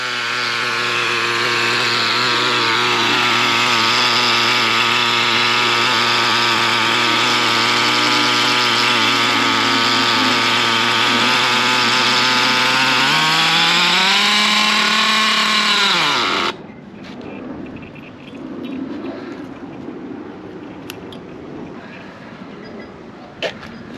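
A Traxxas T-Maxx nitro RC truck engine runs at a loud, high, buzzing idle for about sixteen seconds, its pitch dipping and wavering near the end before it cuts out abruptly, leaving quiet with faint clicks.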